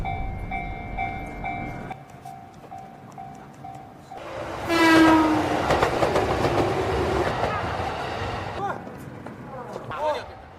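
A train passes on railway tracks beside a street crossing, with a loud rumbling swell of rolling wheels and squealing tones after a few seconds of quieter ambience and a steady tone, easing toward the end amid background voices.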